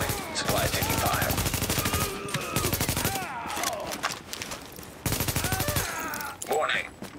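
Gunfire in The Division video game, dense bursts of rapid automatic shots in long volleys with brief gaps, mixed with game voices and radio chatter.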